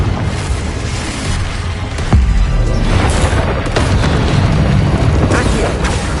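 A Confringo spell in the video game Hogwarts Legacy sets off a loud, booming explosion with a sharp onset that rumbles on under dense battle effects.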